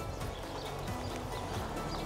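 Horse hooves clip-clop steadily in an indoor riding lesson as the horse moves through its gaits, the rhythmic footfalls fairly close with a constant low rumble of arena noise and no talking.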